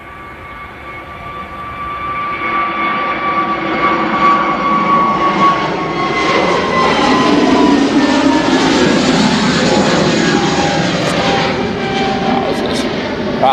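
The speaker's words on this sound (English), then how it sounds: "That's probably why you heard it land, given that it's so big." A large aircraft at Manchester Airport roars loudly and steadily as it lands, a broad jet-engine rumble with whining tones that swells and sweeps past, with people talking over it.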